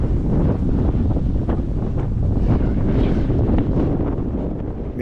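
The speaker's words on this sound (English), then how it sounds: "really windy." Strong, steady wind buffets the microphone on open Minnesota tallgrass prairie, a loud continuous roar and rumble with gusts that swell and ease and no voices.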